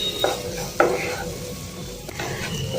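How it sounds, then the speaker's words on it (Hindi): Cumin and dry mango powder stirred into frying tindora (ivy gourd) in a pan, a loud close sizzle with several spatula scrapes and knocks against the metal, no talk. "ये 1/2 टीस्पून से कम आमचूर पाउडर और इसे अच्छे से मिक्स कर लेती हूँ।"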